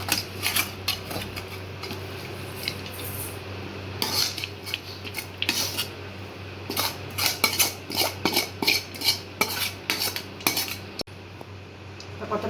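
A metal spoon stirs and scrapes through cooked rice as soft cooked raw-mango pieces are mixed in, giving bursts of clinking and scraping against the pot, separated by short pauses.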